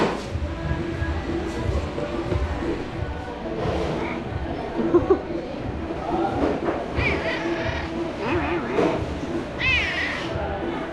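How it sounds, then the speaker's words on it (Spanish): A cat meows a few times near a table at an eatery in a Venezuelan village, with short, high-pitched cries rising over a steady wash of background chatter and street noise. "Y el gatito está esperando para que le demos."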